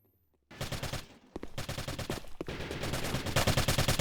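Rapid bursts of automatic gunfire in a Warzone match, sharp repeated cracks in dense clusters that grow louder and more continuous toward the end, with a brief lull near the start.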